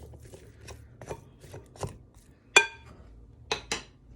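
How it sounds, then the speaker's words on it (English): A knife chops through steak on a board, making several distinct knocks spaced irregularly, with a couple of sharp clinks against the board or a dish. The sounds are close and clear with quiet pauses between them. "I'll cut up this other little piece just a little bit."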